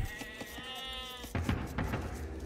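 Sheep bleat in an Age of Empires real-time strategy match, a clear wavering cry of about a second standing alone, followed by busy game sound effects and clicks.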